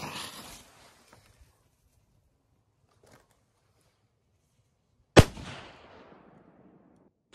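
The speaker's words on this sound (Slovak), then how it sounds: "Takže domáca petarda, ale že fakt, že domáca, pretože aj zlož je domáca." A homemade firecracker, with its charge also homemade, bursts in a single sharp, loud bang after quiet outdoor stillness, followed by a brief decaying rumble; a faint earlier rustle precedes it.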